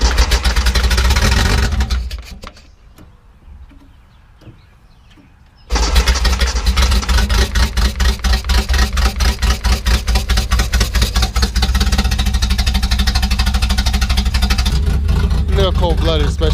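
A Datsun 240Z engine, freshly rebuilt with new plugs, wires, valves and a valve guide, running cold with no choke: loud, close, rough rhythmic firing that drops out briefly, then catches and keeps running unevenly.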